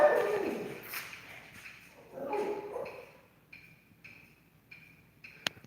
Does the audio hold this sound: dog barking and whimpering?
yes